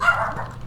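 A dog barks in the ghost-hunting game Phasmophobia, a single short, close bark that fades out quickly.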